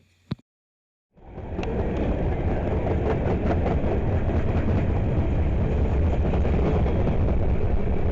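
After a brief moment of quiet, a CSX freight train with an ES44AH mid-train locomotive roars past close by, a loud sustained rumble with rhythmic clacking of wheels on the rails.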